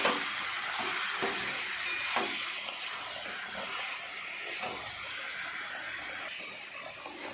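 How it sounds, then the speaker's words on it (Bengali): Mutton stirred and fried in a pan for kosha, giving a loud, continuous sizzle and hiss with occasional scraping stirs, no talk. "এইভাবে ভালোভাবে নেড়ে নেড়ে অনেকটা সময় নিয়ে মাংসটাকে ভালো করে কষিয়ে নেব"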